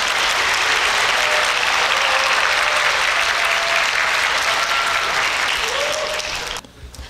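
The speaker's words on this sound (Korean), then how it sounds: "큰 박수로 환영해 주시기 바랍니다." Sustained applause from a large audience at the 2019 POSTECH matriculation ceremony, welcoming the university president. Loud, dense and steady clapping runs for several seconds, then thins and fades out near the end.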